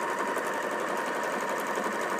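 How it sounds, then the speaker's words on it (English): Domestic sewing machine stitching long quilt strip sets for a Bali Pop jelly roll quilt, running in one steady, continuous whirring hum throughout, close and alone with no talk. "So I'm sewing 3 strip sets like this."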